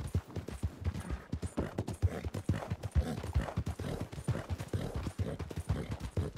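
Horse hooves clip-clop in a steady, brisk rhythm of many close, distinct strikes in Red Dead Redemption II (RedM), a continuous trotting beat heard without talk over it.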